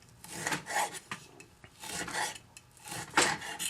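A knife slices beef thin on a board in repeated rasping strokes, each a short scraping pass, close and moderately loud, with no talking.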